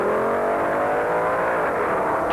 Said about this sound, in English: Then it was Gene Snow's rambunctious Dodge Challenger to go against Gabriel and Wagner's Long Beach Firebird Pontiac.